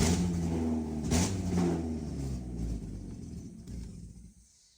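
A turbo Mazda Miata engine, tilted on its side, cranks and runs briefly with a steady, rough, humming rumble, close and fairly loud, then cuts off abruptly near the end.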